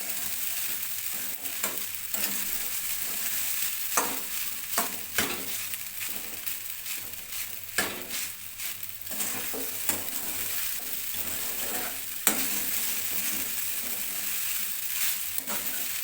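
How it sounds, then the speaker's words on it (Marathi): Sabudana khichdi stirred and sautéed in a pan over low gas, a steady close sizzle with repeated scraping strokes of the spoon at an uneven rhythm, no voices. "मस्त असं परतून घ्यायचं आपल्याला व्यवस्थित, चिटकली नाही पाहिजे खाली।"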